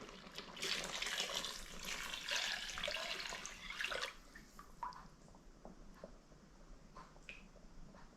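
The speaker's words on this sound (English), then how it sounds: "So let's put some water in there." Four cups of water poured into a pot of homemade stew with beef stock, a steady splashing stream for about four seconds, then quieter drips and clinks near the pot.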